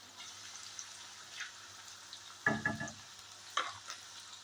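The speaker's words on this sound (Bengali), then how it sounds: "আর এদিকে তো আলুর চিপসটা ভাজা হচ্ছে" Potato chips frying in oil in a wok, a soft steady sizzle running throughout with a few louder bubbling bursts and stirring clatters near the middle and end.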